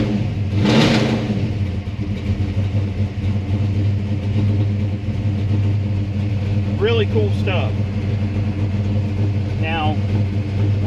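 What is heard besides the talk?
car engine revving then idling with advanced ignition timing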